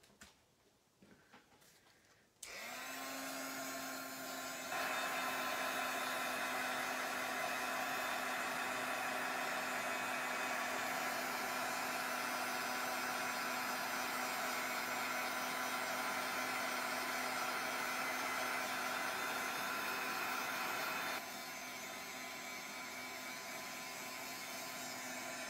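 A hair dryer runs steadily for about twenty seconds, drying a coat of transparent crackle paint on a mixed-media piece, its loud whirring hum starting abruptly and holding even before easing slightly near the end.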